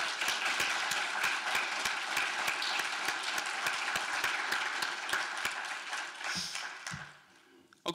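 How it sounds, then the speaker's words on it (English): Audience applause at the closing ceremony of a BSides Salt Lake City security conference, a dense steady clapping from a large crowd that holds for about six seconds and then tapers off toward silence. "Let's do a round of applause for these people now."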